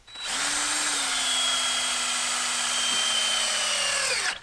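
An electric drill spins the oil pump of a seized old Dodge Charger engine, giving a loud, steady whine that holds nearly level for about four seconds before stopping, with no talk.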